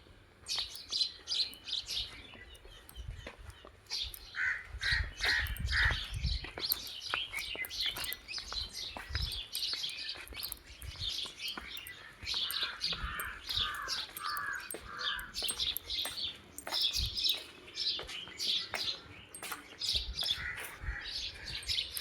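Crows cawing and other birds chirping outdoors at night near a hotel cafe, steady repeated calls from several birds at moderate distance over faint background noise, no talking.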